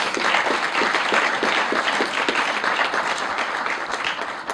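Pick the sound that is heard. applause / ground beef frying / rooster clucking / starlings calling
applause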